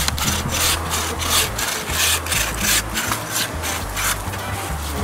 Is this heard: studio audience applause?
no